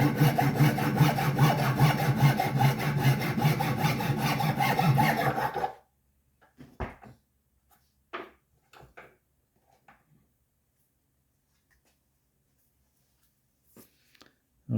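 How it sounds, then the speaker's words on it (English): A toothbrush handle clamped in a vise is sawn off with quick, steady back-and-forth strokes for about six seconds, close and loud, followed by a few faint clicks and handling noises. "we're just going to go ahead and clamp this down here in our vise, and we're just going to cut off the handle"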